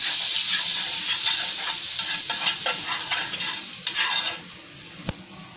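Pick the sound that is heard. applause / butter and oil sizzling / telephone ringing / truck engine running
butter and oil sizzling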